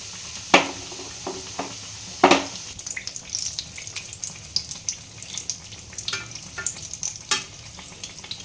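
Capsicum chops deep frying in oil in an iron wok: a steady crackling sizzle broken by clinks and scrapes of a utensil stirring, with a few sharper metallic knocks.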